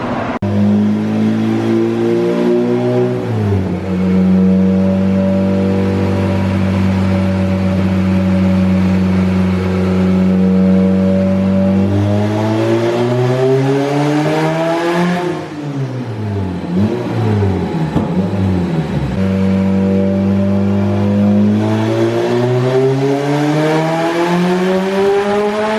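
Turbocharged stock Honda GSR B18C engine tuned with Hondata S300 running on a dyno at 4 pounds of boost, revving loud and steady with rising and falling pitch sweeps across several pulls, with no voices over it.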